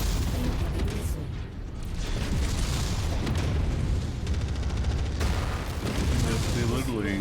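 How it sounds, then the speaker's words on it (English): Incoming missiles explode in the MechWarrior 5 video game: loud, dense booms and rumbling blasts fill the mix continuously, with game voices talking over the battle noise. "Incoming missile."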